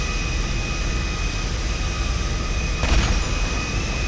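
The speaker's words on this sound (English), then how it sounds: "your plane just exploded" A plane blows up in the GTA V video game on PC, a sudden broad burst of noise cutting through steady engine hum and lasting about a second before the drone carries on.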